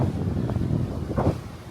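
Wind gusts across the deck of the MSC World Europa cruise ship, a brief low buffeting rumble against the microphone, close and fairly loud, with no talk.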